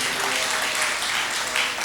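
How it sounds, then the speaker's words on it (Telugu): A church congregation applauds during a sermon, a dense wash of many hands clapping together, steady and fairly loud throughout the short burst. "మనలో ఉన్నాడన్న వాళ్ళు చప్పట్లు కొడదా?"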